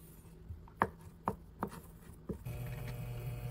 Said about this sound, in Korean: 요 스팸 하나만 썰어줄게요 그냥.